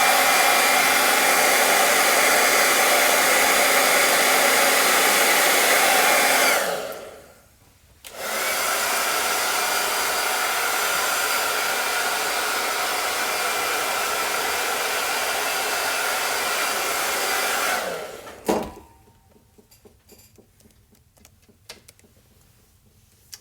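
Hair dryer blowing on a wet chalk craft piece, a loud steady whoosh that cuts out briefly, resumes for about ten seconds, then stops, followed by faint ticking and clicking.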